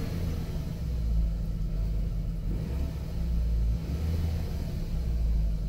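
A 1998-2011 VW New Beetle engine idling rough after sitting unused, a steady low rumble with uneven pulsing and slight surges, close by and alone with no talk.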